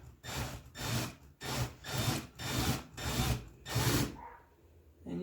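Six rhythmic hand strokes of a countersink bit grinding into a screw hole in wood, a close, raspy scraping in even bursts, each followed by a brief pause.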